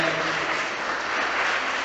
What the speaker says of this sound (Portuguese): dê uma salva de palmas para Jesus, bem alegre.